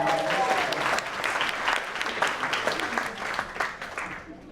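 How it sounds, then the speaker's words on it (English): Audience applause at a talent show for people aged 50 and better, a dense wash of clapping from a seated crowd that stays steady for several seconds and slowly thins toward the end, with a brief voice at the start. "Give her a round of applause for helping"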